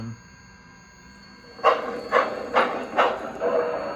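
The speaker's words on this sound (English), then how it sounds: "Now, when I start moving the locomotive, you hear that extra clunk from the" A model steam locomotive with a Zimo sound decoder starts moving and gives a series of rhythmic clunks with puffing chuffs, about four evenly spaced beats that grow steadier, with a faint hum underneath.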